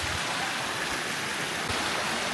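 Water flowing inside Kavaledurga Fort, a steady broadband rushing like a stream or small waterfall, constant and moderately loud throughout with no talking.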